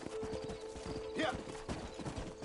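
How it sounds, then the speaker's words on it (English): Horse hooves clip-clop at a steady trot beneath a brief whinny in Red Dead Redemption, with faint background voices. "Horses are over here."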